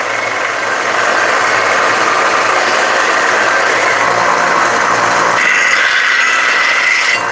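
A belt sander grinds hard steel indoors at a knife forge, giving a steady, loud abrasive rasp with a motor hum underneath that continues without pause and shifts slightly in tone near the end.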